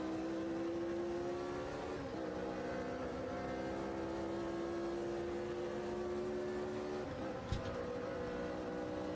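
Vintage race cars roar around Spa-Francorchamps in Automobilista 2, a steady droning engine note with gear shifts and a passing car, plus one sharp knock near the end.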